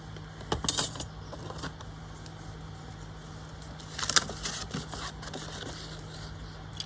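Scissors cut pieces from a mini collage roll of paper ephemera in two short bursts of crisp snipping and rustling over a steady low hum, close by with no talk.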